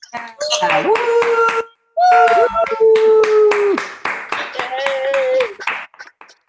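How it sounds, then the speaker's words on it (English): Participants at an online district speech contest clap and cheer, with scattered claps mixed under bright, excited voices calling out and whooping through most of the stretch. "give them a big round of applause for everything you have done. So, let's clap. Let's clap."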